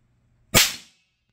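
A small charge of chlorate and sulfur mix goes off in a single sharp, loud bang with a short fizzing tail, alone and close by.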